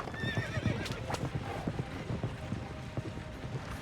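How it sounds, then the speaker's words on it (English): Horses in a video game gallop with quick, close clip-clopping hooves, and a clear whinny rises over the steady beat during a chase. "These horses running."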